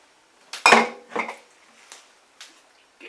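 Eggs beaten in a bowl for cornbread, a few separate clinking strokes against the bowl with short pauses between them, close and fairly quiet.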